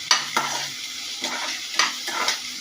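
Curry leaves hit a hot pan of garlic-chilli paste for a Marathi sprouted moth bean dish, giving a steady close sizzle broken by several sharp crackling bursts and the scrape of stirring, with no one talking.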